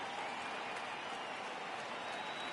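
Crowd cheering in a baseball video game forms a steady wash of roaring noise with faint clapping. It holds at an even, moderate level from start to finish with no clear talk.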